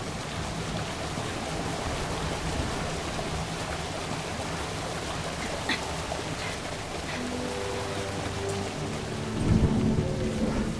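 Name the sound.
rain and thunder in the video game A Highland Song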